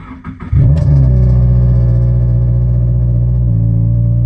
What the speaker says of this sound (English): Car though is so stupidly loud.